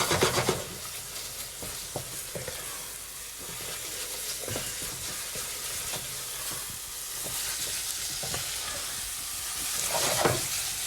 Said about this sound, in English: just to give them a stir, and just until they start kind of charring a little bit.